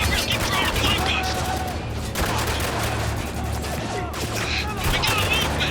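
Gunfire rattles through a Spec Ops: The Line battle: dense bursts of automatic shots keep coming amid constant combat noise, with shouted voices mixed in.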